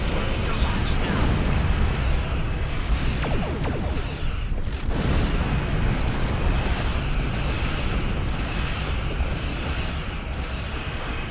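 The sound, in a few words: starship torpedo launch and explosions in a space video game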